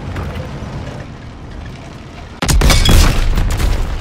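A loud, abrupt tank explosion bursts in over a low rumbling Call of Duty: WWII soundscape, followed by crackling debris and a sustained roaring blast.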